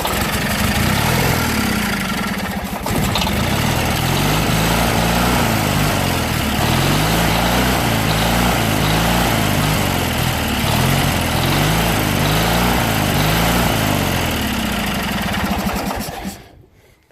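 A junkyard Briggs & Stratton opposed-twin small engine runs fast and close, loud and chugging, for most of the stretch before it cuts out and dies away near the end. The engine is running on ether with no fuel hooked up.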